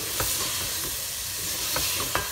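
Cauliflower and potato stir-frying in oil for aloo gobi, a continuous close sizzle and hiss with a few soft spoon scrapes and stirring knocks, no talking.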